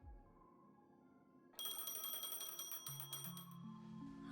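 A phone rings in the Honkai Star Rail video game, a bright electronic trilling chime that starts abruptly and repeats in quick pulses over a quiet musical background, with a rising tone sequence joining near the end.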